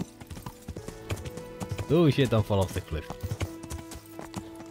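Horse hooves clip-clop at a gallop in a hardcore fantasy video game as the rider heads toward an upper castle, a quick rhythmic patter running under a man's loud, excited talk.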